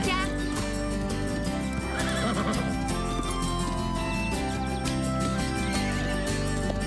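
A horse at a riding competition whinnies as hooves clip-clop steadily over a continuous music bed, with faint voices in the mix.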